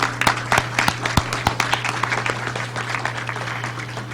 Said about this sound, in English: So just give them another hand clap.